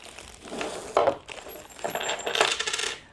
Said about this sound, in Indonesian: Kemudian dalam plastik klip ini